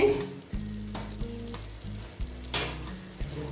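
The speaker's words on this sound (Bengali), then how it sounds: "পটল আর সয়াবিনটা দিয়ে দিচ্ছি দিয়ে আমি কষিয়ে নেব আবার" Pieces of pointed gourd and soybean chunks fry in a pan, a continuous sizzle broken by occasional louder hissing bursts, all over a steady low droning tone.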